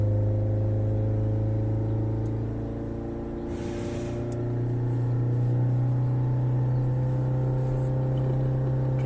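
Peugeot 5008 engine idling with a steady low hum, then rising in revs toward about 3000 rpm and holding there, with a brief brighter whine partway through; no talking.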